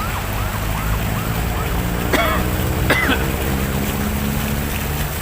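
Two short, rough coughs stand out over steady outdoor traffic noise while walking to Luneta Park in Manila, with a siren-like wail fading at the start.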